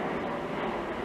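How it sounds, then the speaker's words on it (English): Airplane flying overhead near Logan Airport, heard as a steady, loud broadband roar of jet engine noise filling the whole short stretch with no break. "Excuse the plane."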